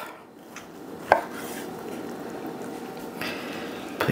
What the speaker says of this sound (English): Slice a few slices off.